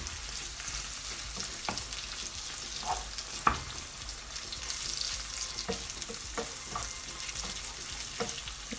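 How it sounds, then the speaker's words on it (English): Breakfast sausages mixed with tomato ketchup in a frying pan over low heat, giving a steady soft sizzle with scattered spatula clicks and stirring scrapes close by, and no talking. "I'm gonna mix this all together like so"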